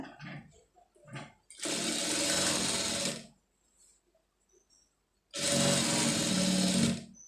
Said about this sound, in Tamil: அதுக்கு தகுந்த மாதிரி வந்து இழுத்துட்டு அதில் தையல் போட்டுருங்க